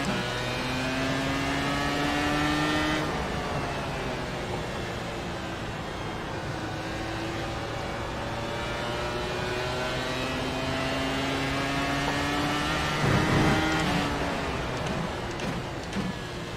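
A Dallara race car in iRacing on an out lap, its engine holding a steady, loud drone with gear changes and pitch sweeps rising and falling, close and alone.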